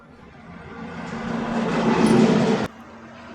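Mixer grinder jar grinding onion into paste, a close, loud whirring grind that builds steadily for about two and a half seconds, then cuts off abruptly into a quiet hum.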